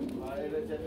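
Budapest and Afsan grizzle running-pair pigeons coo in short, soft bursts under loud, nearby conversation at a pigeon sale.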